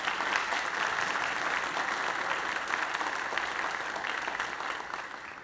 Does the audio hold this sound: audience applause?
yes